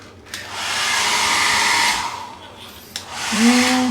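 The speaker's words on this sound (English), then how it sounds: "Where is the hair dryer? Oh, hair dryer is here." A hotel-room hair dryer blows with a steady broadband whoosh, briefly cut off and restarted, then a low whining motor tone as it runs again.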